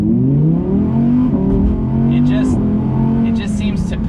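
A 2020 Audi R8 V10 launches from a stop, its engine note climbing steadily through rising gears, loud and close inside the cabin, with a voice talking over it.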